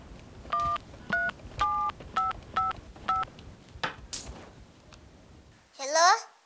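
A telephone keypad is dialed in a studio comedy sketch: six crisp touch-tone beeps in quick succession, then a short child-like voice and a squeaky rising sound.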